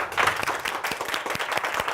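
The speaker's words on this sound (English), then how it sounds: "and loud applause. Let's clap." An audience claps and applauds together at a talk, a brief burst of many hands clapping in a dense, steady patter.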